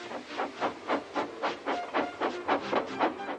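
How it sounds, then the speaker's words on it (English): Toy Thomas-style tank engine layout with a steam engine blowing off steam in rhythmic chuffing bursts, about a dozen evenly spaced hissing puffs close up, with no talk. "Gordon, with much noise and blowing of steam, got ready to back onto the train."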